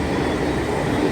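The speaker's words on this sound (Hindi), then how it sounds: "बहुत साफ़ सुथरी ट्रेन है। और इससे मैं पार्क टाउन तक जाऊँगा।" A Chennai local train runs along the track, heard from inside as a loud, steady rumble and wheel noise with no voices.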